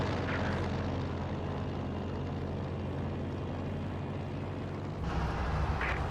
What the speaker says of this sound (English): Reconnaissance overflights spotting the camouflage troops.